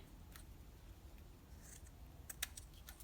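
Scissors cutting lace ribbon for bows, heard as a few faint, crisp snips near the end over a quiet hiss.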